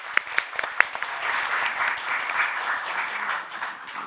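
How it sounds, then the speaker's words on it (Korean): A few crisp individual claps open into a steady round of audience applause at a National Assembly seminar on aviation security, sustained evenly for a few seconds. "박수 한번 이렇게 쳐주시면 좋겠습니다"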